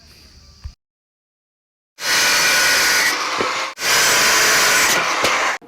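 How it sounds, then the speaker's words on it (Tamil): Power cutting of square steel tube pieces for a concrete mixer stand built from an old oil barrel: after a short silence, two sustained loud grinding-cutting passes with a brief break between them, close and harsh. "இதுல நமக்கு தேவையான பீஸை மட்டும் இப்போ கட் பண்ணி எடுத்துக்குவோம்."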